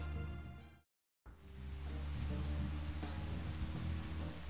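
Steady rainfall in the video game Deadly Premonition, a soft continuous patter under faint tonal game background sounds, briefly cut to silence near the start before resuming.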